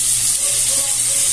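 Chopped tomatoes hit hot oil with onions in a pan for a shrimp dish, producing a loud, close, steady sizzle with a constant frying hiss throughout.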